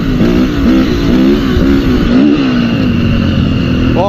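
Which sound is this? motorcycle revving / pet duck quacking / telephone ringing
motorcycle revving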